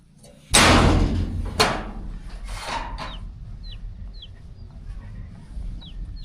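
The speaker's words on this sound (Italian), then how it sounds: "È il momento del cibo per le galline" Hens clucking at feeding time. A couple of sharp knocks like a door or lid banging open the scene, then the birds go on with soft, scattered clucks and small chirps.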